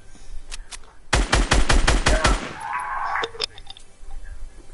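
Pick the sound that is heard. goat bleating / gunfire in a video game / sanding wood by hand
gunfire in a video game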